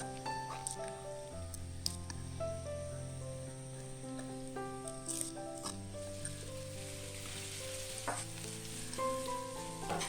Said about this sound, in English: Then stir fry minced garlic until it is almost brown.